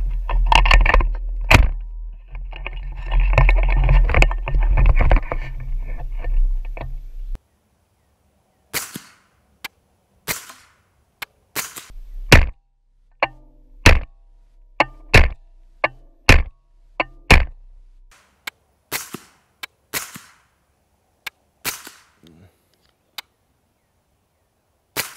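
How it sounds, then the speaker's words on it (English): Suppressed SIG MPX with an Evo 9 suppressor firing 147 grain CCI Blazer rounds, a series of about ten sharp, muffled cracks at uneven intervals, some close together, after a stretch of rumbling background noise. "let's go ahead and give these first 10 rounds a shot"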